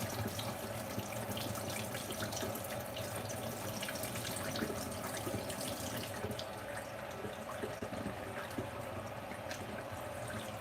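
Tap water runs steadily into a sink while a makeup brush is rinsed under it, making a continuous splashing hiss with small drips, fairly close by and without talk.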